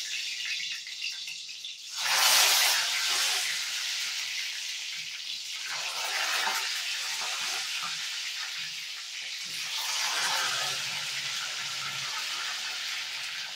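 Eggplants dropped into a pan of generous hot oil, a loud hissing sizzle that swells at the start and settles into steady crackling frying with small surges.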